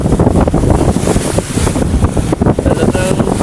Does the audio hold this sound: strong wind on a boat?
yes